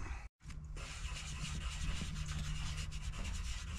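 Rag or pad rubbing wax across a surface in steady back-and-forth strokes, a continuous close scuffing texture after a brief gap near the start.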